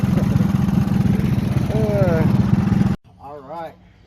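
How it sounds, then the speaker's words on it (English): A go-kart with a 212cc Tillotson engine drones loud and steady at close range for about three seconds, then cuts off abruptly, followed by a short burst of voices. "the lightweight Blue Bullet with the 212 Tillitson in it, that's definitely a fast go-kart"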